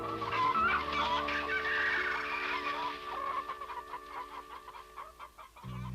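Chickens cluck in short, repeated bursts, mid-distance, over a sustained tonal background in an animated adventure scene.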